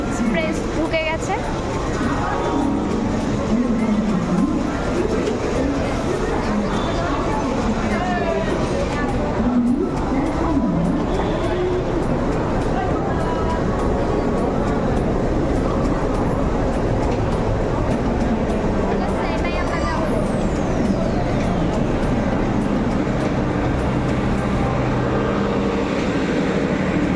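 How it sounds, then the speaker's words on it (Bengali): The Doon Express rolls into a busy station with a rumbling, clattering wagon noise and brakes squealing, while platform crowd chatter and nearby voices run over it the whole time. "তো আমাদের দুন এক্সপ্রেস ঢুকে গেছে।"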